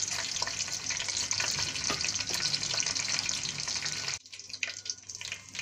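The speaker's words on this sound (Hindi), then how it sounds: "ऑयल गर्म हो गया, अब इसमें सफेद जीरा शामिल करेंगे।" Cumin seeds and whole red chillies fry in hot oil with a dense, steady sizzle and crackle that drops sharply near the end, leaving quieter spitting pops.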